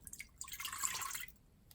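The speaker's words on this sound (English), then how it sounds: "I'm pouring 1 cup of milk." Milk poured into an Instant Pot holding corn on the cob, a steady trickling splash lasting about a second, close and fairly quiet, with no talking.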